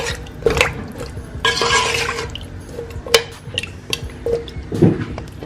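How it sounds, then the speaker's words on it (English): Water with carrot and Irish potato going into a pot of Jamaican stewed beef, heard as splashing pours, drips and a few hard knocks against the pot, uneven and close. "we're gonna add this water with the carrot and Irish"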